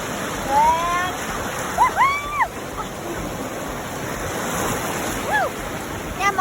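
Ocean waves breaking and rushing on a beach, a steady surf wash heard close, with children shouting and cheering over it while playing with boogie boards.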